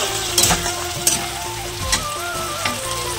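Spices and other ingredients sautéing in a pan for a fish curry, a loud continuous sizzle with a few spoon scrapes and stirs close by.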